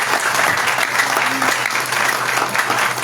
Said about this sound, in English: Only 2-3 people are clapping.